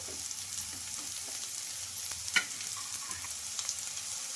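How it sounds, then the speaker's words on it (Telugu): Grated cabbage and carrot stir-frying with softened onions in a pan: a soft, continuous sizzle with scattered scrapes and one sharper clink from stirring, close and steady, with no talk. "ఇప్పుడు తురిమిన క్యాబేజ్ అయితే వేసేసుకుంటున్నా అలాగే క్యారెట్ కూడా వేసేసుకోవాలి"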